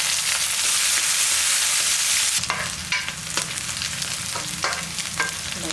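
Chopped large onions fry in hot oil with a loud steady sizzle, then the crackle turns choppier as they're stirred, scraping sounds breaking in, close by.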